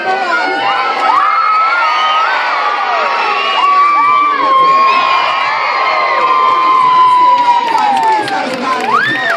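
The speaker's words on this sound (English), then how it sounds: "So I want to hear the biggest screams you've got as he reaches number 1." A crowd at a sea lion show at West Midlands Safari Park, heavy with children's voices, screams and cheers loudly and continuously, with high shrieks and whoops rising and falling throughout.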